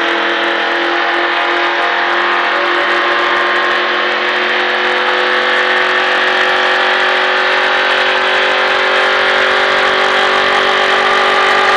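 A race car engine roars continuously on a NASCAR track, loud and close, its steady drone rising slightly in pitch as it accelerates.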